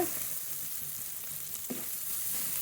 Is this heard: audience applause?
no